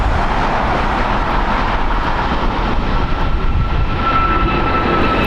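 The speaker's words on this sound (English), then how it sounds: "American Airlines Flight 265 going to LIH, an Airbus A321neo, 2 years old." An American Airlines Airbus A321neo jet departs LAX, making a loud, steady broadband engine roar that holds at a constant level throughout, with no one speaking.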